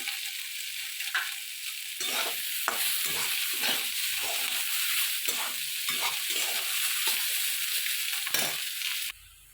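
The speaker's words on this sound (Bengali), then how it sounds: "এইভাবে আপনারা ভাজবেন লাউ খোলা" Continuous hissing sizzle of bottle gourd peel frying in a pan, punctuated by repeated rhythmic scraping strokes as it is stirred, nearby and steady.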